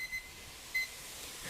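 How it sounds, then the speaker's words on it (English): A kitchen timer beeps twice in short, high, clean electronic tones about half a second apart, fairly faint over a quiet room with no talking. "My timer's yelling at me."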